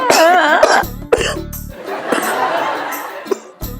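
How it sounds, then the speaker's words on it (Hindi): A person coughs hard several times in a row, close and loud, with harsh rasping bursts and brief gasps between them. "इलायची के पापा ये लो पानी पी लो, अभी ऐसी बहुत सारी खांसी आने वाली है"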